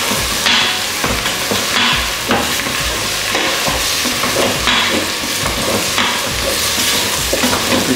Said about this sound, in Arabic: نقلب العيش مع الحمسة